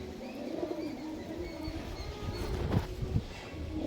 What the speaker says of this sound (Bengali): কুশ করছে পায়রাটা।